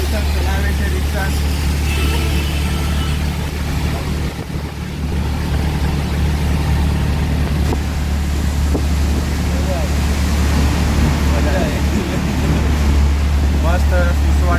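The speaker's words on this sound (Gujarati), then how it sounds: "80ની સ્પીડે અમારી રિક્ષા જાય" An auto rickshaw drives fast along an Ahmedabad road, its engine droning steadily under loud, buffeting wind rushing past the open cab, with a brief dip in the roar midway.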